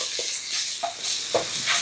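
Spices including turmeric powder sizzle and fry in a hot pan for satay peanut sauce, a constant crackling hiss broken by a few soft scraping stirs.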